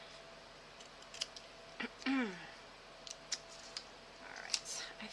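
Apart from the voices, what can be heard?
scissors cutting paper ephemera for a journal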